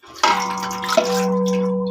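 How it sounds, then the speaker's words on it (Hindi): Water poured into a cooking pot while making mutanjan, a sweet rice dish: a steady stream starts with a splash and runs continuously and fairly loud up close, with a ringing pot resonance. "ये सबसे पहले आपने इसमें 2 कप पानी डाल लेना है"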